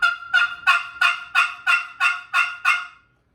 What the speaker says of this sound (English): So I haven't touched on the copper call, the copper one. It's very metallic sounding.